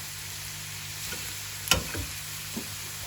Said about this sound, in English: Pop them in, give it a good stir, and let it cook away.